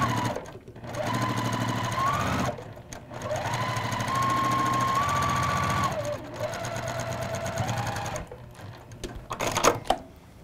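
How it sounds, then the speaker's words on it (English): A sewing machine stitches quadrants of a Spinning Star quilt block together in several steady runs, its motor pitch rising and falling with speed changes, with brief pauses between seams. It is close and fairly loud. "Now we're gonna sew our two quadrants into halves and then two halves into one block."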